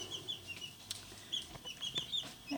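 Two-week-old chicks peeping softly, several faint high chirps scattered over a quiet, low background.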